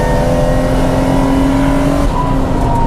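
A 500 hp turbocharged VR6 Audi A5 runs flat out on a race track, its engine a loud, sustained droning roar that holds steady close up with a brief shift in pitch near the end.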